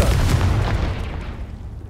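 A Confringo spell blasting in a wizarding video game, a deep booming explosion that starts loud and rumbles away over two seconds.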